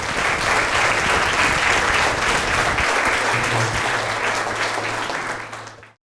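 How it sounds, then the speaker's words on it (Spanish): A church congregation applauds after a closing prayer, a steady, dense wash of clapping from many hands filling the room, holding strong for about six seconds before cutting off, with a low hum underneath in the second half. "Le damos un aplauso al Señor,"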